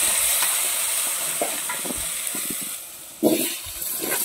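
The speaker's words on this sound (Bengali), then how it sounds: "এরপরে এই তেলের ওপরে আলুটা ভেজে নেওয়া হবে" Potato pieces frying in hot oil over an outdoor cooking fire at a family picnic, giving a steady bright sizzle with a few stirring knocks and a sudden louder hiss near the end.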